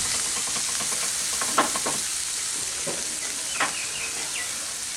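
Pointed gourd paste hitting hot oil and spices in a pan gives a steady close sizzle and hiss, with a few brief stirring scrapes and spatula clicks over about five seconds and no talking.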